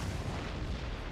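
Cannon fire in Napoleon Total War, a dense rumbling boom of artillery spread through the moment, moderately loud and continuous, with no clear gaps.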